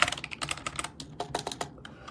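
Rapid keystrokes on a Snpurdiri 60% wired RGB gaming keyboard, a steady close clatter of crisp clicks in quick succession with no talk.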